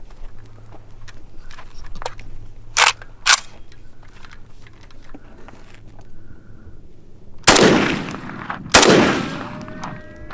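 Two loud, sharp rifle shots from an AK-47 variant fitted with a grenade launcher sight, fired outdoors about a second apart near the end, after quieter clicks and handling noises.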